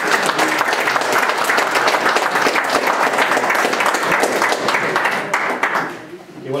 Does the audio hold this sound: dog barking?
no